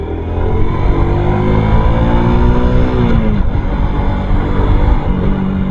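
A Suzuki Smash FI motorcycle out on a road test, its engine droning loud and close with a steady rumble and rising harmonic whine as it pulls through the gears, wind noise mixed in.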